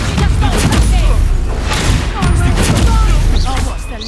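Bombarda spell blasts in Hogwarts Legacy go off as loud, close, heavy booming explosions layered with crackling debris, running almost continuously.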